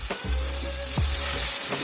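Ginger garlic paste fries in a pan with a light, steady sizzle and hiss, along with a few low thumps and scrapes of handling, close by and without talking.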